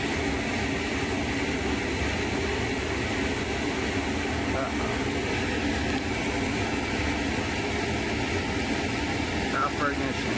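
Gas boiler fan runs its pre-purge before ignition, a steady, unbroken whooshing drone with a constant level throughout, nothing else standing out.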